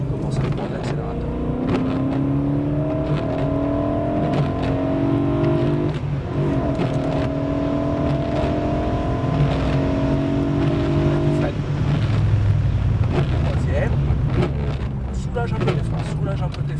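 A BMW M3 E92 accelerating out of a turn, its engine note climbing in rising harmonic sweeps, dropping back and climbing again, loud and close, while someone talks over it throughout.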